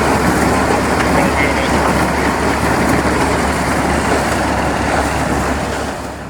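Heavy antique tractor engines run loudly and steadily at a working farm show, a dense mechanical rumble that fills the clip and eases off slightly at the end.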